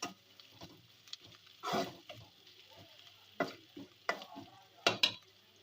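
Masala for chicken pulao stirred in a pot, with scattered scraping and spoon knocks over a light sizzle, fairly quiet with a few louder strokes near the end.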